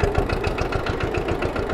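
An old vintage tractor engine in Tasmania chugs at a steady idle, its low, even thumping beats repeating rapidly without pause.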